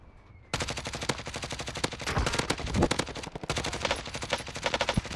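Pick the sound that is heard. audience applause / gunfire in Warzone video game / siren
gunfire in Warzone video game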